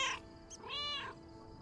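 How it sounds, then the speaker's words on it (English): A cat meows twice inside a video game, first a short high chirp and then a longer drawn-out meow, clear and close over a faint steady hum. "Meow. Meow."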